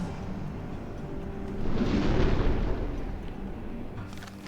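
A torpedo launched from a submarine in UBOAT gives a muffled rushing swell that builds and then fades over a few seconds, low and heavy beneath a steady background hum.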